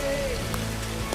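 Rain beginning to fall outdoors around a house under exterior renovation, a steady broadband hiss of drops on surfaces with a few sharper patters, close and continuous across the short moment.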